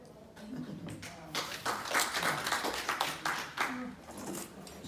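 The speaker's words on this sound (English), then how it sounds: "Are you clapping for the video" A short round of hand clapping, quick and fairly close, mixed with a voice talking.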